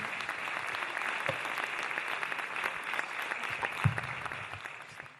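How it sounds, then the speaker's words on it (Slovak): An audience at a commemorative event in Trnava applauds steadily, a fairly quiet, even wash of many hands clapping that holds for several seconds without voices. "Veľký potlesk."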